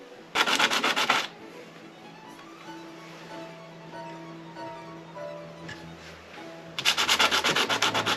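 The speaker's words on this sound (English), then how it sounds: "we're just going to do a back and forth motion, sand it down" Sandpaper is worked back and forth on a small part for a Rossi R95 .45-70 lever-action rifle: two bursts of fast, raspy scrubbing strokes at the start and end, close up, with quiet handling in between.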